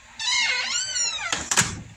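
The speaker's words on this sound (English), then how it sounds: "Man, Tigger is a very nice cat." A house cat meows in a long, rising-and-falling call close by, followed by a short thud or door bump.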